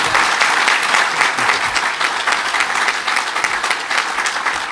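Audience applause at a ribbon cutting ceremony, a steady dense wash of many hands clapping that carries through the whole stretch at an even, fairly loud level.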